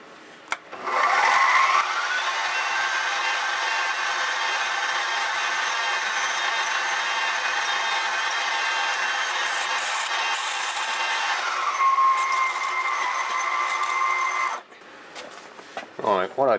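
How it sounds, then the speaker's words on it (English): A 3/8 drill boring out a miniature petrol engine part, a steady high whine that holds for about twelve seconds and then stops abruptly, with faint handling noises at either end. "Got to drill this out now with a 3/8 just till it breaks through the hole"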